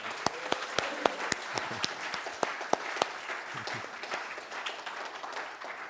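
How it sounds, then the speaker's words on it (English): A Sunday celebration congregation applauds, scattered individual claps standing out sharply over a soft, steady patter of hands that fades slightly toward the end. "One more round of applause for Cheryl and Melissa"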